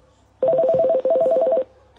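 A telephone rings loudly as a caller joins a live phone-in show: a steady warbling electronic ring in two pulses, briefly broken once, standing alone without voices.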